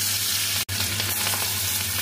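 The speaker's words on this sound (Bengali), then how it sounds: "এবার মাছটা ভেজে নেব।" Fish frying in a small amount of hot oil in a wok, a steady close sizzle with a brief dropout partway through.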